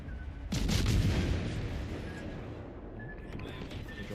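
Naval combat in World of Warships: Legends: a deep booming blast opens into a rumbling, sustained roar of gunfire and explosions, fading gradually beneath quieter ongoing battle noise.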